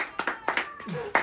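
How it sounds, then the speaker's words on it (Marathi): Light hand claps from a family at home welcoming a new baby tap out a quick, uneven rhythm close by, fairly soft, with a voice chiming in briefly between them. "टाळ्या वाजवा"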